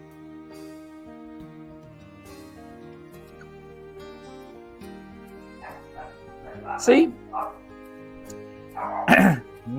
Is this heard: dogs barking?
yes